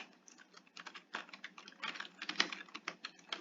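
Fast, light tapping on a computer keyboard while a Java command and class name are entered, giving a close, irregular patter of key clicks with a slightly sharper stroke near the middle and no voices.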